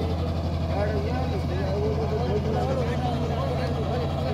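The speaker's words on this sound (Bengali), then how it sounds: "এটা ডবল সিলিন্ডারের বোট আছে।" A double-cylinder motorboat engine drones steadily on the Matla river in the Sundarbans, a constant low, close rumble throughout with voices talking over it.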